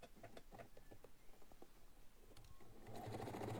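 Domestic sewing machine stitching fabric for a large shopper tote bag, a close, steady mechanical whir with rapid needle clatter that speeds up and grows louder toward the end.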